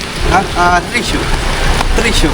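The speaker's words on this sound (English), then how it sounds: "यहाँ पे बारिश हो रहा है पूरा" Steady rain falls in the old streets of George Town, Penang, during a trishaw ride, a continuous close hiss with voices talking over it.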